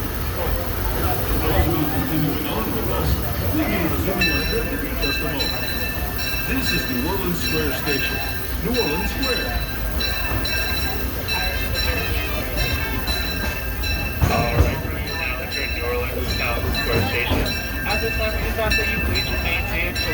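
A Disneyland Railroad train rumbles and rattles steadily, with high metallic brake squeals rising partway through and a murmur of voices underneath as it slows to a complete stop.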